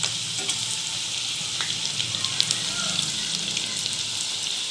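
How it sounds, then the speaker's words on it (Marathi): Onion bhaji (pakoda) frying in hot oil over medium heat, a steady, close, bright sizzle with crackling bubbles that runs unbroken throughout, with no voices. "मीडियम गॅसवर फ्राय करायची, म्हणजे चांगले कुरकुरीत बनतात."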